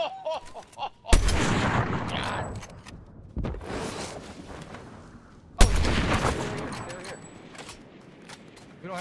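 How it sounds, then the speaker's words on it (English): Gunfire in Fortnite, played in VR, with two sharp loud shots followed by decaying booming echoes, plus smaller distant pops, while a person talks in between. "That gunshot's really far over there. There's gunshots."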